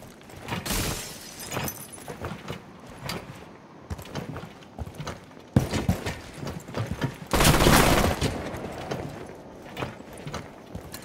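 Gunfire in Rainbow Six Siege sounds as loud, rapid bursts and single cracks, some clustered into dense volleys with short pauses between them, and a long, heavy burst near the end.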